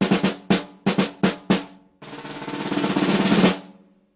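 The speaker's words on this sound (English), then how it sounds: "It's called a snare drum because it has snares" Orchestral snare drum: five sharp, separate strokes with crisp snare buzz, then a sustained rolling buzz that swells and stops abruptly, close and alone.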